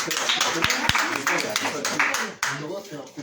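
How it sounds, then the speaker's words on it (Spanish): An audience at a book interview event applauds with scattered, close hand claps under continuous talking voices. "Un fuerte aplauso."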